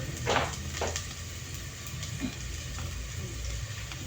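Ingredients for lugaw rice porridge sautéing and browning in a pan, a steady low sizzle throughout with a couple of brief louder bursts of frying near the start, no talking.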